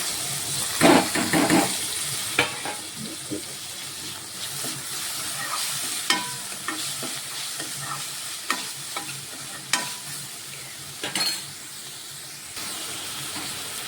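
Tomatoes tossed into a hot frying pan and stirred, with steady sizzling and hissing steam broken by repeated scraping and clinking of the spoon against the pan.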